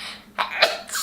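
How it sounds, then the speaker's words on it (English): A woman's sneeze bursts out near and loud, a sharp broadband puff that stands alone without any talk. "I'm gonna sneeze."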